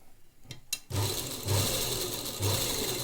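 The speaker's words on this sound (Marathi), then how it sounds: "मण्यांची शिलाई लेस लावत असताना शिलाई अगदी जपून आणि सावकाश मारावी लागते." A sewing machine stitches bead lace onto fabric for a latkan, a steady near motor hum starting after a couple of light clicks and pulsing slightly as it runs slowly.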